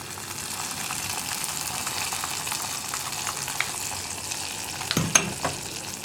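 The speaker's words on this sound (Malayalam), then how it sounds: "ഇനി നമുക്കിത് നമ്മുടെ പാൽ വാഴക്കയിലേക്ക് ചേർത്ത് കൊടുക്കാം." Fried cashews and raisins are stirred into a pan of milk plantain, a soft steady sizzle with scraping stir strokes and a couple of sharper clinks near the end, all fairly quiet.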